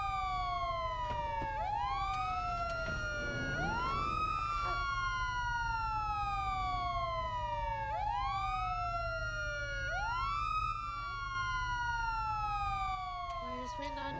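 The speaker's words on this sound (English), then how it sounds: "There goes sirens." Police car sirens in the GTA roleplay game wail in repeated rising and falling sweeps, several layered sirens overlapping at steady volume over a low engine drone for the whole stretch.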